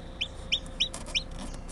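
A newly hatched chick inside an egg incubator gives four quick, high peeps in an even rhythm, close and clear over a low hum of background noise.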